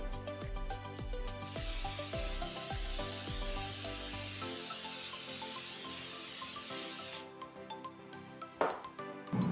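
A steady hiss of olive oil spray lasting a few seconds over background music, then a brief clatter near the end.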